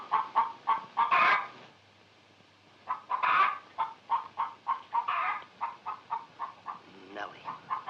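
A hen clucks in a steady run of short, fairly close clucks, with a few louder squawking bursts between them and a brief pause partway through.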